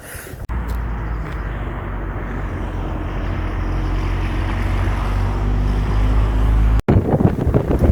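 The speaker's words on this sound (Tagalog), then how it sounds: "so medyo mahangin" Cold wind blows outdoors in Split, Croatia, buffeting the microphone with a steady roaring rush that builds gradually, broken by brief dropouts.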